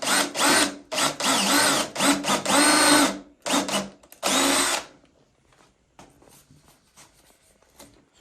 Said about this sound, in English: So we'll drill this now